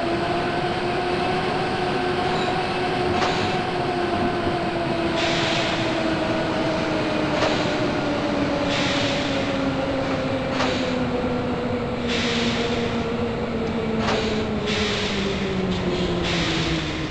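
A Berlin U-Bahn U2 subway train at a station runs with a steady loud rumble and a long falling tonal whine of its motors, with faint clicks and knocks throughout and no talk.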